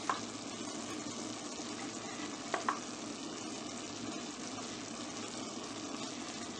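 Tomato and chili sizzling as they fry in a pan with steak and baby potatoes for Mexican-style beef, a steady broad hiss with a couple of brief clinks or stirring knocks, close and loud throughout.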